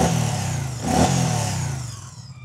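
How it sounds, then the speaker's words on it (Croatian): A Moto Guzzi Stelvio motorcycle engine revving up close, a loud throaty blip that swells near the middle and then settles back toward idle. "Kako se čuje lijepo ovaj agregat samo"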